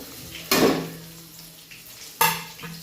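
Chopped tomatoes drop into a hot pan of oil with curry leaves, garlic and chili, setting off a loud sizzle that fades, then a second sharp sizzle and stir a moment later, heard close up.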